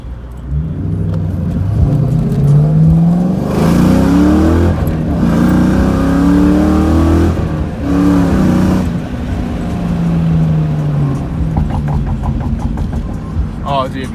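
A car fitted with an MGW short shifter accelerates hard on a test drive, its engine rising in pitch through repeated revving pulls with brief dips at gear changes, loud and close from inside, while people talk over it.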